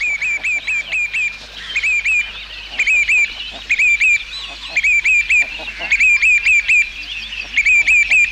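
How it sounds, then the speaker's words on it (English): Wild waterfowl on the croftland of North Uist give loud repeated honking quacks in quick bursts, a steady run of close calls over faint background noise. "Ducks like the mallard were a different matter."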